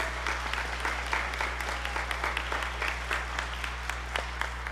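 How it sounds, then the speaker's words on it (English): A concert audience applauds students after a school band performance, dense steady clapping that holds at moderate volume over a low constant hum for several seconds. "please join me in another round of applause for these wonderful students on their accomplishments"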